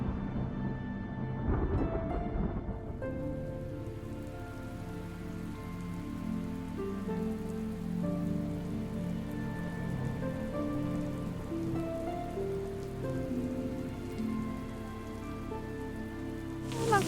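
Heavy rain pours down steadily throughout, a dense continuous hiss of drops on surfaces with music-like tonal layers underneath and no talking.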